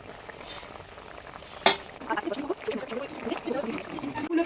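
Mustard hilsa fish curry simmers in a pan, a soft low bubbling and gurgling with scattered pops, joined by a sharp clink partway through and ongoing faint kitchen noise.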